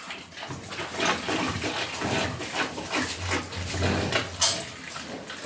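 Water runs from a drinker in a pig pen, a gurgling, splashing flow that surges and fades, with pigs snuffling and grunting nearby and no talking.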